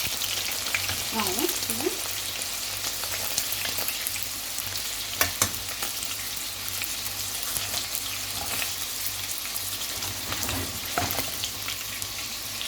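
Chicken pieces frying in hot oil mixed with ghee that has darkened with heat, a steady close sizzle and crackle running throughout with a few sharper pops, a brief voice speaking near the start.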